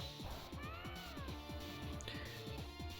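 A cat Pokémon's cry in the Pokémon MMO Black/White battle, a string of rapid, repeated synthesized meows and yowls rising and falling over busy game music, close and loud.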